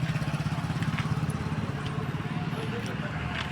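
A tractor engine chugs with a rapid, throbbing low rhythm, running steadily nearby on a farm field throughout.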